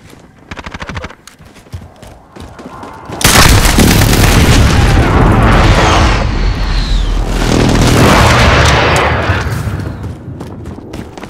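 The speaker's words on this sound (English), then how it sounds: "Airstrike, get down!" Airstrike explosions in Call of Duty: Modern Warfare, a heavy booming blast that erupts after a few seconds and rolls on as a sustained loud rumble with secondary detonations, preceded by quieter rattling gunfire.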